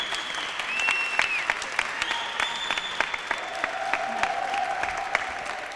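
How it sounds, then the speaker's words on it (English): An audience at a voter ID rally applauds, a steady wash of clapping from a crowd lasting several seconds at moderate level, with no talk over it. "Let's give a round of applause for the Honorable Miss Linda Thompson."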